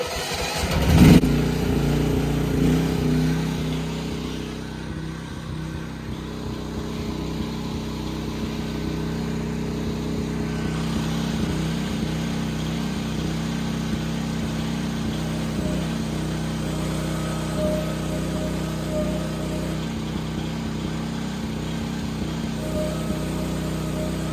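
A Chinese mini excavator's diesel engine starting up and running with a hydraulic lever held fully over, a loud close rumble after a sharp start-up burst, then a steady laboring drone that holds for the rest of the stretch, no talk.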